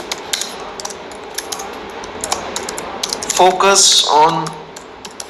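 Quick light keystrokes on a computer keyboard while writing headings in a WordPress post, brief bursts of clicking under a person talking.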